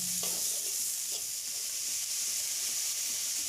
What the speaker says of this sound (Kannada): ಚೆನ್ನಾಗಿ ಬೇಯಿಸ್ಕೊಳ್ಳಿ ಈರುಳ್ಳಿ ಮತ್ತು ಟೊಮೆಟೊನ.